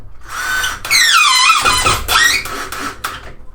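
A power drill drives screws into a brace for a bird cage stand, making close, loud whining bursts that rise and squeal as each screw tightens, with short pauses between them.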